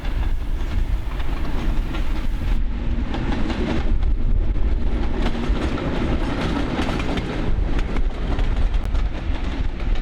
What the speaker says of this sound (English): D7076 was built in Gorton and makes a wonderful sound as it heads up the steep Broadfield bank heading for Heywood.